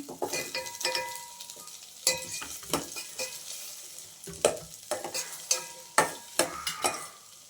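Capsicum fries in ghee and oil while a spoon stirs it, producing a continuous sizzle punctuated by irregular sharp scraping clacks against the pan, close and alone.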